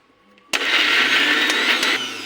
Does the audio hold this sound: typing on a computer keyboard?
no